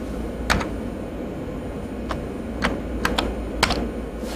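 Keys on a Commodore computer keyboard clack sparsely as a short command is typed, with about seven distinct, close presses spaced irregularly over a steady low hum.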